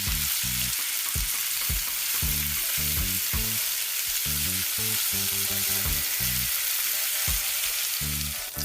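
Carrots and aromatics sizzle loudly in a pan for a curry coconut corn soup, a constant close frying hiss broken by repeated scraping stirs, with no talking.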